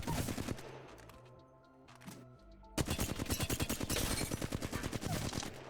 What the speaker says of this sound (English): Now let's give the hipfire and a flatline a try.